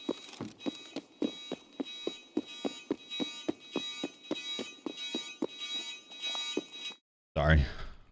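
An alarm blares in a room, sounding as a fast, steady train of loud electronic beeps for about seven seconds before cutting off, followed by a brief burst of a voice.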